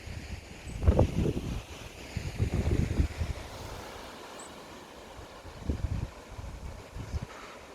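Gusty wind near beehives buffets the microphone in low rumbling bursts, rising and falling over a steady outdoor hiss.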